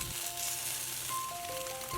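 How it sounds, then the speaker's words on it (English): North Korean tofu rice triangles fry in a pan with a steady, close crackling sizzle throughout, a dense bright hiss with small pops and faint tonal squeaks, no voices present. "When both sides are done, fry for 2 minutes on each side of the triangle."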